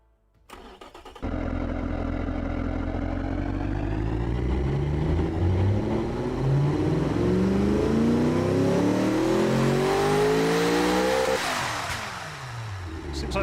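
A video game car engine with a restricted exhaust cranks, starts and revs, climbing steadily in pitch over several seconds before cutting off, loud and continuous.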